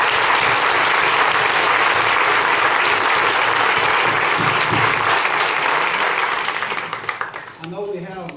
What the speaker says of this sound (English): I'd like to give them all an applause for all the job that they do every day.